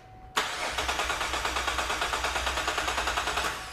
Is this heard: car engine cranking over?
yes